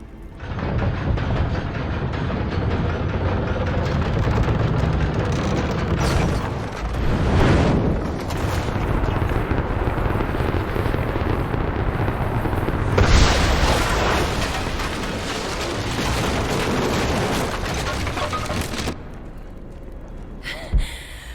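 An explosion blows down a gate in Rise of the Tomb Raider, a long roaring rumble with booming surges and crumbling debris, loud and sustained before dying away near the end.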